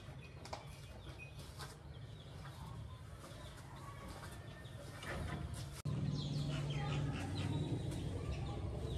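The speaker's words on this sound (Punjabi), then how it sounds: "ਮੈਨੂੰ ਕੁੱਕੜ ਨਜ਼ਰ ਆ ਰਹੇ ਨੇ" Chickens kept in a room of an old, century-old haveli in Ali Pur Seydan, with pigeons also present, clucking faintly amid a quiet, airy room tone, with a rooster-like call and some louder movement toward the end.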